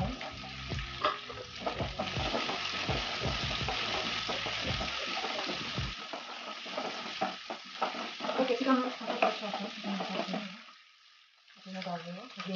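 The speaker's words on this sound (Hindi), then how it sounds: "ऑयल गर्म हो गया है, अब मैं डाल रही हूँ गार्लिक और जिंजर।" Garlic and ginger hit hot oil in a pan, crackling and sizzling loudly while being stirred, the frying easing off briefly near the end before resuming.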